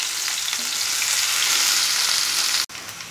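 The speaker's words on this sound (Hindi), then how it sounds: "प्याज को हम 2-3 मिनट फ्राई कर लेंगे।" Chopped onion frying with cumin in a hot pan on high flame, a steady, close, continuous sizzle with faint stirring clinks, then a brief drop-out near the end before the hiss resumes.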